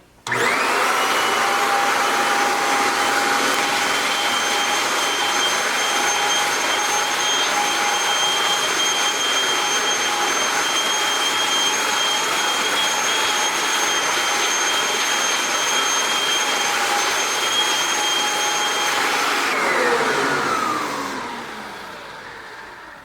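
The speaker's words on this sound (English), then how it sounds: "now you're just going to want to vacuum over the area or surface that you shampooed or cleaned" A loud Kirby vacuum cleaner runs continuously over a shampooed surface with a steady high whine and airy roar, then powers down, its pitch sliding away at the end.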